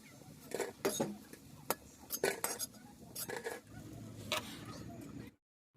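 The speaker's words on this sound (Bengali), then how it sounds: "এভাবেই প্রত্যেকটা বড়াকেই সুন্দরভাবে ভেজে নিতে হবে।" Bengali fritters (bora) frying in a pan in a home kitchen, with scattered metallic clinks of a utensil against the pan over a low sizzle, close and moderately loud before falling silent at the end.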